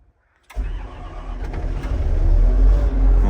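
A car on a frosty, very cold morning, with its engine plugged in, cranks after a moment of silence and fires right up. It settles into a loud, close idle that swells slightly.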